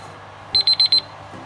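A kitchen timer rings for cookies baking in an oven, giving four quick, loud electronic beeps in a steady rhythm, close by, with no talking over it.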